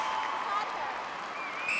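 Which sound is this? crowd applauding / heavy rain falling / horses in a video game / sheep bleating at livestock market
crowd applauding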